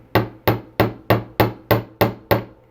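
Small hammer striking a wire loop to flatten it for a handmade twig pendant, eight sharp, evenly spaced metallic taps ringing close and clear with no talk.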